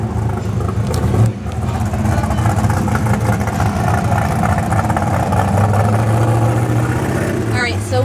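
Drag race car roaring through a pass, a loud sustained engine drone with steady revving that fills the whole clip, with people shouting and talking over it.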